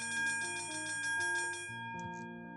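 A ringing bell in an Assemblée nationale video game sounds in a bright, tonal run that decays toward the end, with a few faint higher chimes late. No one speaks.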